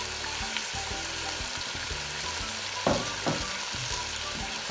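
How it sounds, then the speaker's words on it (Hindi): Biryani meat fries with whole spices in a steady sizzle, with a few louder stirring scrapes near the middle, close and moderately quiet, with no talk. "दोस्तों उसको हमने भूनते हुए तकरीबन 8 से 10 मिनट हो गए हैं"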